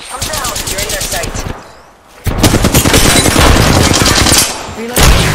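Rapid automatic gunfire in a shooter video game, loud and close, bursts rattling on and off with a brief lull in the middle before heavy firing resumes.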